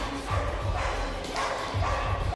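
Dogs fight in a TV show scene, snarling, yipping and barking in bursts with thuds, fairly close and loud.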